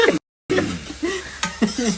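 Onion tempering fries in a pan and is stirred with a ladle, giving a close, steady sizzle with scraping clinks of metal against the pan. A brief dropout breaks the sound near the start.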